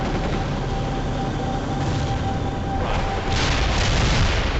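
A video game explosion: a dense, loud, continuous rumbling roar that swells into a heavier blast near the end, with no voices.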